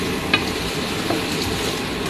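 Tofu tinola ingredients sauté in olive oil in a pan, giving a steady, close sizzle with a couple of soft stirring clicks and no talk.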